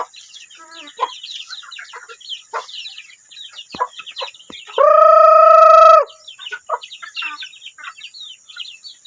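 Black hens cluck in quick, scattered bursts nearby, joined midway by a loud, sustained rooster crow lasting about a second before the soft clucking resumes.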